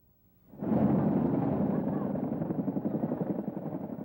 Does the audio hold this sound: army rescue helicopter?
yes